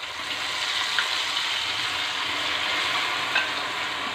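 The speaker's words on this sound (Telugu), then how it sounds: "పేస్ట్ని ఈ తాలింపులోకి యాడ్ చేసేసుకోండి" Paste dropped into hot tempering with curry leaves, frying with a loud, continuous sizzle and occasional stirring scrapes, close up with no voices.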